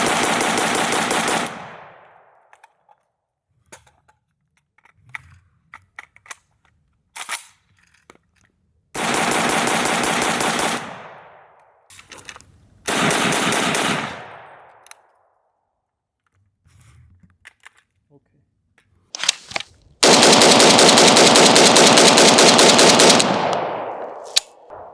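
Polish Kalashnikov WBP rifle fitted with a compensator fires four loud, close bursts of rapid automatic fire separated by quiet gaps, the final burst longest and sustained.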